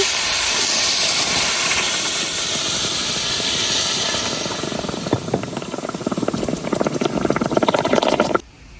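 Water pours steadily into a pan of sugar for syrup, a loud rushing hiss that thins into splashy, bubbling trickles before cutting off.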